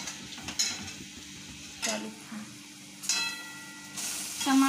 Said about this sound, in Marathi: टमाटे छान परतून घ्यायचे।